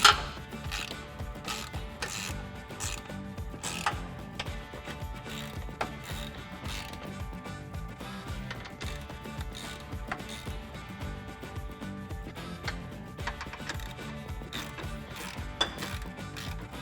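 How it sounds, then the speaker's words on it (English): A 3/8-inch drive ratchet with a 13mm socket tightens bracket bolts holding side step bars to a Toyota Tacoma body, giving a continuous run of fast, close clicking strokes with no talk. "I'm going to be using a 13mm socket and a 3/8" drive ratchet in order to do that."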